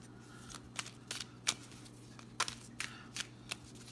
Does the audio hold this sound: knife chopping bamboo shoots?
no